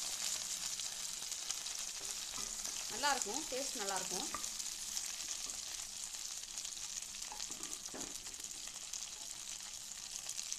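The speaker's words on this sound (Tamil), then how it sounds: "நான் வந்து கொஞ்சம் தாளிக்க மிளகு போட்டிருக்கேன்" Whole black peppercorns and spices temper in hot oil for a vegetable kurma, a soft steady sizzle throughout with a brief voice passing over it midway.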